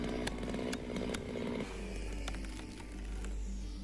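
A chainsaw runs steadily at close range while large trees are dropped on a wooded property, its buzzing engine droning continuously for a few seconds with no talking.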